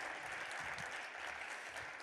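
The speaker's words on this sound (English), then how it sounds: "Please join me for a round of applause for Mr. Honorable Raz J. Baraka, the mayor o" An audience claps steadily for the mayor of Newark at an honoree event, a dense, even wash of applause from a crowd throughout, with no talk over it.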